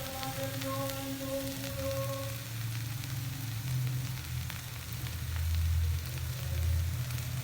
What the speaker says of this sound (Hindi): अब हम इसे अच्छी तरह फ्राई कर लेंगे।